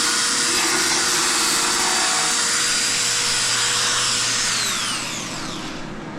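Power tool grinding down a weld on a Nissan S13 car subframe during a bushing upgrade, a loud steady high-pitched whine running continuously, then winding down at the end with no talk.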